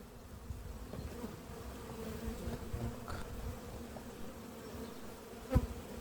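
Honey bees buzz in a steady, dense drone at an opened hive during hive cleaning and inspection, with one brief louder bump near the end.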